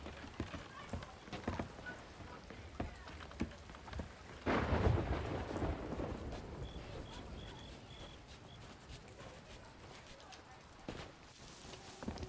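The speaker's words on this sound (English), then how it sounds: "Oh god, it's raining." Rain pattering steadily with a loud thunder crack midway, followed by rumbling and continued rainfall, in the video game Sea of Thieves.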